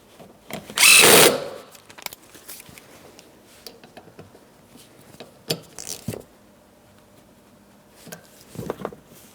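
A power drill bursts on briefly and loudly to snug a seat belt bolt in a 2008-2016 Chrysler Town & Country, followed by scattered clicks, taps and handling noises of parts and tools in a quiet space.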